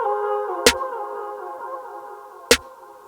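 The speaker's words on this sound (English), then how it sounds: "the most classic trap snare out there sounds like this." Two crisp trap snare hits from a drum sample, each a sharp bright crack, struck about two seconds apart over a sustained dark synth pad chord.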